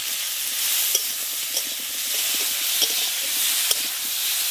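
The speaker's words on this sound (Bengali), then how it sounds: "লবণ দিয়ে আমগুলো ভালো করে ভাজা ভাজা করে নেব।" Steady sizzling of salted mango pieces frying in a pan, a continuous hiss with a few soft scraping clicks as it is stirred.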